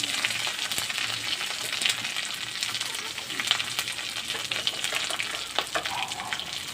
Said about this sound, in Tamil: வெங்காயம் நல்லா வதக்கி விடலாம்